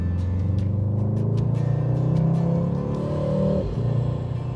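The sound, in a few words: Mercedes AMG GT 63 S 4-liter V8 engine revving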